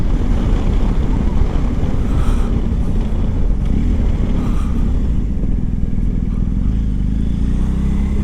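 A motorcycle engine idles and runs with a constant, loud rumble close by, steady throughout without distinct revs, under wind noise.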